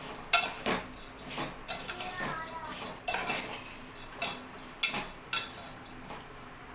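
Vermicelli (semiya) roasting in a pan, stirred continuously with a metal spoon that scrapes and clinks against the pan in repeated close strokes over a light dry sizzle.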